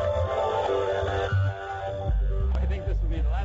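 Ambient electronic music from the Groove Salad internet radio stream plays steadily with sustained tonal layers and a shifting low bass line, fairly loud throughout the short stretch.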